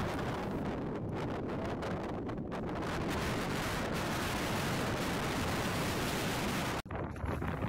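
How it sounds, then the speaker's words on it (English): Strong wind on tidal mudflats buffets the microphone hard, a loud, continuous rumbling roar with gusty surges that cuts off abruptly near the end. "the wind was blowing so hard that the camera was shaking"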